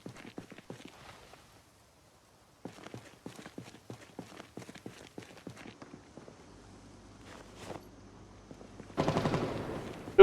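Gunfire from the Project Zomboid video game rings out as rapid, faint, sharp reports in quick bursts, followed near the end by a louder, denser flurry.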